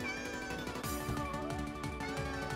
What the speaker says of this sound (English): there's the cat meowing in the game